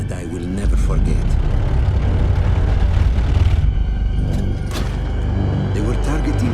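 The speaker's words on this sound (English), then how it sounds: "It was me against an entire enemy bomber squadron." Enemy bomber squadron approaching in Battlefield 1, a loud continuous engine rumble and drone that swells in, with a narrating voice over it.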